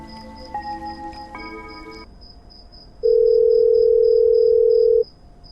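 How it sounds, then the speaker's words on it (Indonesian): A mobile phone going off at night: a few short electronic tones, then a loud steady two-second tone over a faint, continuous high pulsing beep, with no voices. "Suara HP."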